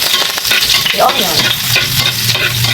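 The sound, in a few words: sautéing onion in a heated pan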